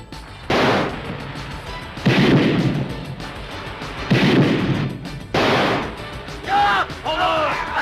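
Movie gunshots from Samurai Cop boom out as four heavy, spaced shots with lingering, echoing decays, followed by fainter ringing sounds near the end, with voices mixed in.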